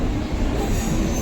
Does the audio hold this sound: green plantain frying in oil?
no